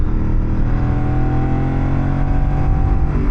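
A 2025 Yamaha Tenere 700 motorcycle accelerates hard with its quickshifter, giving a loud, continuous engine roar with steady pitch, close to the rider, with no talk.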